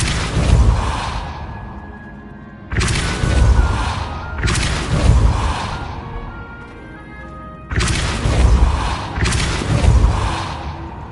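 Depulso force spells cast in Hogwarts Legacy, heard as four loud whooshing blasts with deep thumping impacts in two pairs, each burst ringing out before the next, with no voices.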